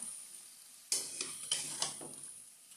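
Soft sizzling of green jackfruit frying in a pan with a few scraping knocks of a spoon stirring, quiet and close, with no voices.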